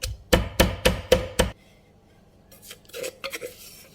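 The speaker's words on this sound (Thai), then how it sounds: "อันนี้ปูจะใส่พริกขี้หนูสวนลงไปด้วย 10 เม็ดนะคะ แล้วก็โขลกนะคะ ไม่ต้องละเอียดมาก" Bird's eye chilies pounded coarsely in a mortar, five sharp hard thuds in quick steady rhythm, close and clear, then a pause and a few softer, scattered scraping knocks.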